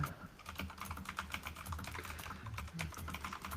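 Close-up computer keyboard typing, a fast, uneven run of crisp key clicks and thocks continuing steadily for several seconds, soft and unaccompanied by speech.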